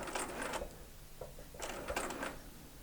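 A sewing machine stitches a seam on an eight-point star quilt in two short, faint bursts of rapid needle clatter separated by a brief pause.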